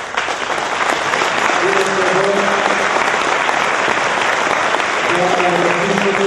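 An audience at a Greek conference applauds steadily for several seconds, a dense sustained clapping that fills the hall, with a voice speaking faintly over it at times.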